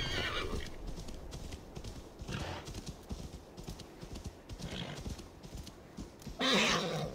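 Hooves clip-clop in a quick galloping rhythm, then a horse neighs loudly near the end, in the video game Assassin's Creed Valhalla.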